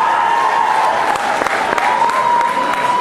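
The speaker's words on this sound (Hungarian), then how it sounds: "Nagy tapsot neki, nagyon szép volt." A crowd applauds a cosplayer at a convention cosplay craftsmanship award ceremony, a continuous wash of clapping with a steady tone running underneath and a few sharper claps standing out.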